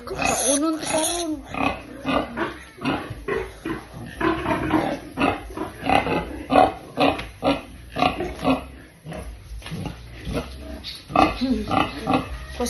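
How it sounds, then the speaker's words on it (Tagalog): A pig grunts and squeals repeatedly while being scrubbed clean, loud rhythmic snorts and oinks close by, with a person talking intermittently over the noise. "Kuskus sa sa baboy."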